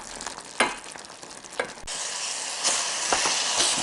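Apples cook down with sugar in a pan, caramelizing, with a constant hiss that swells louder partway through and a few sharp spatula scrapes and knocks against the pan.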